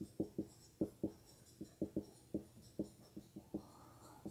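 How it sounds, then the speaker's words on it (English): Chalk or marker taps and strokes on a board during a calculus lesson, with a series of soft, irregular clicks and short scrapes, close and faint, with no talking. "I'm done writing everything I want to write on the board here for this lesson"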